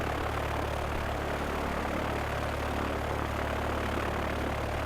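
A plane in the transport game Transport Fever drones steadily, a constant engine hum with a propeller-like buzz and no change in loudness, alone without voices.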